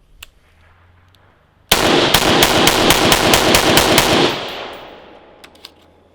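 A rifle fires a rapid burst of roughly a dozen loud, close shots while emptying a Lancer L5 magazine, the shots ringing out over about two and a half seconds, then an echoing tail dies away with a few faint clicks.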